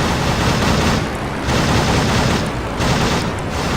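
A biplane's machine gun in Rise of Flight, flown in an Albatros D.III, fires in loud, continuous rapid bursts over engine roar, with brief dips between bursts.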